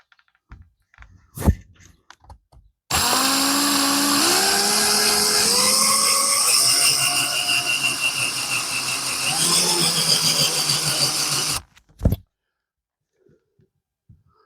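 Power drill boring bolt holes for a spare tire carrier, a loud steady whine that runs continuously for about nine seconds with the motor pitch shifting under load, framed by short knocks before and after.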